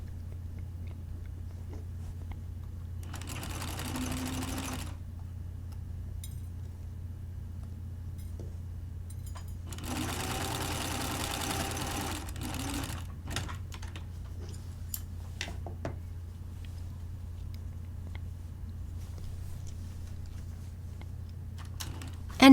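A sewing machine stitches a quarter-inch seam at the shoulder of a blouse prototype, running in two faint short bursts separated by quiet stretches over a low steady hum.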